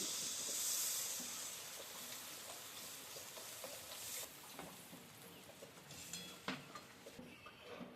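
Water goes into a hot pan while cooking a vegetarian flour dish, and a loud hiss bursts up, then settles into a softer, steady sizzle with faint scattered scrapes. Nobody talks.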